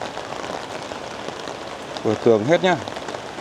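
Light rain pattering steadily in a garden among potted bonsai trees, a faint even hiss throughout, with someone speaking briefly near the end.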